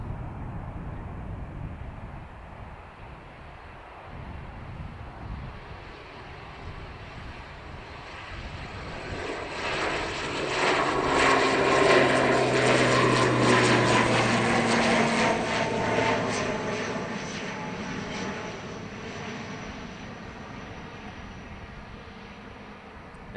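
An ATR turboprop departing Dublin Airport, its propeller and engine roar swelling from a distant drone to a loud peak at mid-clip as it passes, then fading away, with light wind buffeting.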